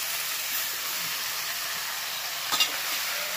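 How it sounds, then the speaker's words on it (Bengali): Cauliflower stir-fries in a pan with spices and catla fish head, a continuous, close sizzle with a single sharp clink of a utensil near the end. "ফুলকপির মধ্যে সমস্ত মাল মশলা ঢুকতে হবে, তার জন্য ফুলকপি দিয়েও 3 থেকে 4 মিনিট কষিয়ে নেব।"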